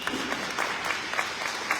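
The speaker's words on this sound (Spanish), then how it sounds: "démosle un aplauso a la palabra de Dios" Worshippers at a Catholic Mass clap together after the Gospel reading, a moderate, steady wash of applause from a gathered congregation in a church hall.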